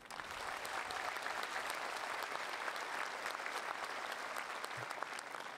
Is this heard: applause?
yes